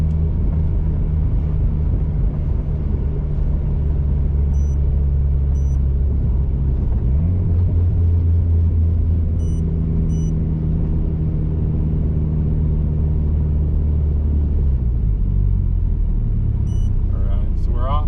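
A car with a freshly swapped ECU drives along, its engine rumbling low and steady up close, with pitch shifts as it changes load; a voice talks over the drone.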